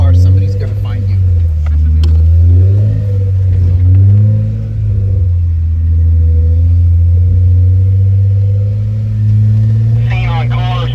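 A loud, deep off-road vehicle engine rumble with a heavy muffler drone on the Flat Iron Mesa trail in Moab, Utah, rising and falling as it revs, while a voice talks over it.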